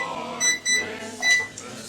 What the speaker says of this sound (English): So I just set the timer.